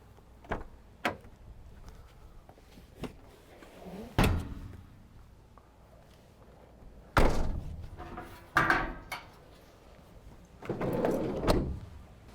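Heavy twin solid rear doors of a 2015 Peugeot Partner 1.6 HDi van clunk and latch several times, sharp thuds spaced across the clip with quieter handling knocks between, close to the listener.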